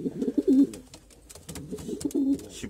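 Pigeons bred for long-distance endurance racing coo inside a loft, a few soft throaty calls rising and falling close by with gentle rustling between them.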